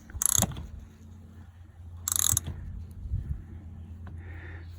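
A wrench turns a Toyota oil filter counterclockwise, with two short bursts of close metallic ratcheting clicks and softer scraping and clunks between them, with no talking.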